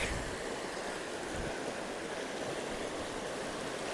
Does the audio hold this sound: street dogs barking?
no